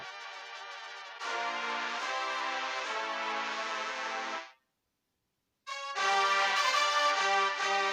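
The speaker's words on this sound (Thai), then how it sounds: "ฟังเครื่องเป่านะครับ ฟังเครื่องเป่า" A wind-instrument section from a Thai karaoke backing track of a song, processed with effects, plays sustained bright chords in two long phrases separated by a brief silence, full and steady without any talk.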